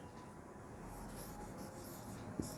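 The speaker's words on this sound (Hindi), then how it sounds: "ये पहला लेटर कैपिटल में लिखेंगे, उसके बाद सभी लेटर स्मॉल में लिखेंगे" A pen writes numbers on paper, a soft continuous scratching and rubbing that runs steadily throughout at low volume, close by and without talk.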